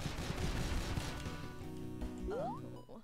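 Exploding gunshots from the video game Dead Estate fire in a rapid, dense burst of sharp cracks over the first second and a half. They then thin out under steady electronic game tones and a rising synth sweep.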